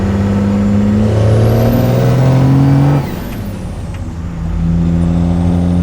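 A diesel truck engine at full throttle in third gear, loud and close, with a strong droning tone climbing in pitch, dipping briefly mid-run, then pulling again.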